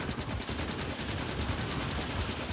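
A gun turret in Factorio fires continuous rapid automatic bursts at attacking biters, a dense, loud, unbroken rattle of gunfire without talking.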